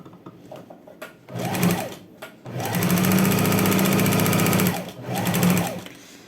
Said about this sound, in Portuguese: Vou passar mais uma costura para reforçar.